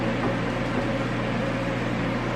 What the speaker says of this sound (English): then I air fry it